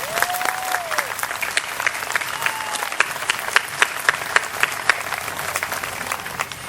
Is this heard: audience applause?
yes